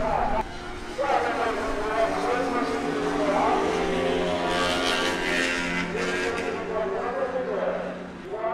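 ST1000 race motorcycles launching from the grid at the start of a final race at an amateur-to-pro circuit event in Kyushu, a loud sustained roar of many engines blending together, with crowd and commentary voices over it.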